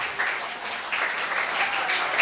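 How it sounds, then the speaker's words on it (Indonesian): Students at MTs Al-Ikhlas, a madrasah in Bontang, clap for a classmate, a steady ripple of applause in a room that swells slightly midway. "Tepuk tangan untuk Sahriani."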